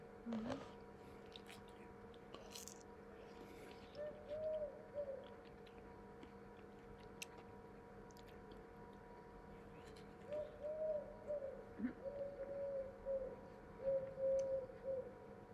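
Soft cooing of turtle doves, a few low repeated calls in two spells, faint against a quiet outdoor background with scattered small noises.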